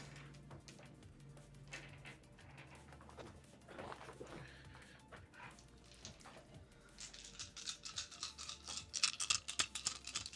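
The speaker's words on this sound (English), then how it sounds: "That's the sound of 8d20." Eight twenty-sided dice tumble and clatter across a tabletop, with a quiet rattle building into a burst of sharp, rapid clicks near the end.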